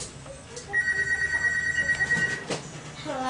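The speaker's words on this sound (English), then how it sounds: "Answer the phone. Answer that." A telephone bell rings in a sustained trill, fairly loud and close, with a brief clatter afterward and faint talk in the background.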